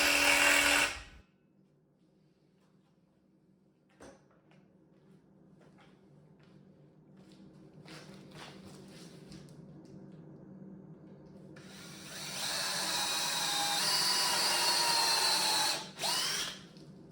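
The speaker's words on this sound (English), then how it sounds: "So this is my really cheap drill press that I got" A cheap drill press bores into wood for joinery plugs in a quiet workshop, a whirring motor that starts, sinks into a low hum with small knocks and scraping, then swells into a louder grinding bite near the end.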